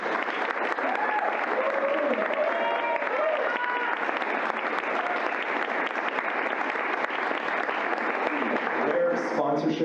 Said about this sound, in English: I'd like to have another a bit of applause for the BIPOC.